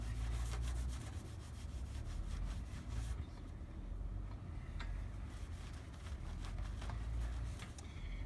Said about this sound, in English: I like using scouring pads to remove the remaining clear coat